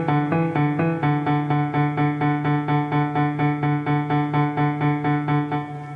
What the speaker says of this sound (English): So if you put on arpeggio, it will sound like this.